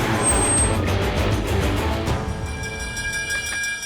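Car engine rumble slowing, easing off as it comes to a stop, with a faint squeal of brakes and a few soft tonal lines near the end.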